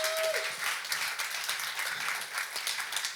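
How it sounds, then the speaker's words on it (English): An audience at a business event applauds steadily and densely, many hands clapping together for the whole stretch at an even, fairly loud level. "Let's give a huge round of applause to Ishioma."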